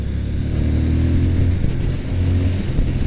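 Triumph Speed Twin 1200 parallel-twin motorcycle pulling hard through the midrange, a loud, steady, close engine drone that holds its pitch over the whole stretch.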